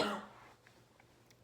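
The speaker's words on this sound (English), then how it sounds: "I might need to cough." A single throat clearing with a short cough comes close and fairly loud at the very start, then fades into a quiet room.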